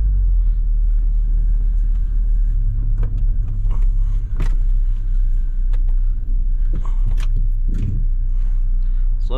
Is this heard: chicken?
no